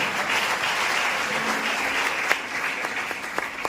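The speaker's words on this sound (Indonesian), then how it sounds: "Tepuk tangan yang luar biasa." A church congregation claps at length during a sermon, a dense, sustained wave of applause with a few sharper claps popping out toward the end, no voices over it.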